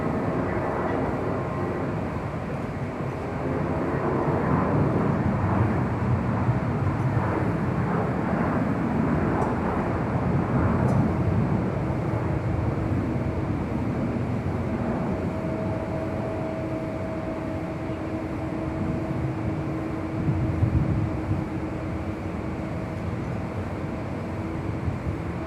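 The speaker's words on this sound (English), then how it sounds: "this is Singapore Airlines and the Star Alliance livery, Flight 11, heading back to Tokyo Narita, this 777-300ER" A Singapore Airlines Boeing 777-300ER in Star Alliance livery at Los Angeles International Airport, its jet engines producing a steady, loud broadband roar with a sustained whine that holds for the whole stretch, heard from some distance.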